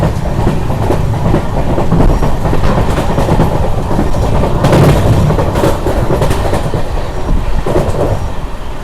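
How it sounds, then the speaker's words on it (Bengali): A passenger train rushing along at about 108 km/h on the Krishnanagar–Azimganj line in India, steady loud rumble and rattle of wheels on track with rhythmic clatter, close and continuous. "আর এখন কিন্তু আমাদের ট্রেনটা অনেকটা স্পিডে চলছে"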